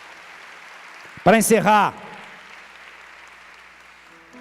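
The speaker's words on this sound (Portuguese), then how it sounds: "Vai dar uma salva de palmas forte a Jesus por isso?" Steady congregation applause fills a church service, a soft continuous wash of clapping that runs the whole way through, with a voice briefly speaking over it near the middle.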